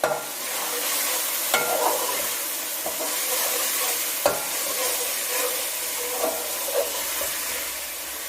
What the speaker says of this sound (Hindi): चलिए जी अब इनको अच्छी तरह से मिक्स कर लेते हैं